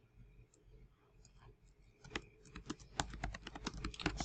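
Faint computer keyboard typing with a few mouse clicks, sparse at first, then a quicker run of close, crisp keystrokes that grows denser and louder toward the end.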